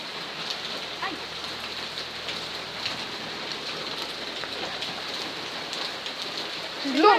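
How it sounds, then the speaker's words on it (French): Dense, steady rainfall with hail hisses and patters close by for several seconds, with a faint voice rising briefly at the end. "Ouah, mais il pleut trop là, c'est pas possible."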